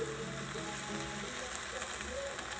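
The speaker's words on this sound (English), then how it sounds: "you guys hear that? The sizzling, that popping?" Rack of lamb sizzles steadily in a hot pan while searing, a dense crackling hiss with faint pops throughout.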